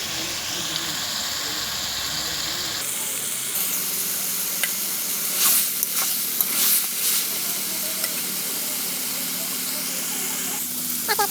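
Masala spices for a village-style chicken curry sizzle and hiss loudly in a pan, with intermittent stirring scrapes and bursts of steam, and someone speaks over the cooking.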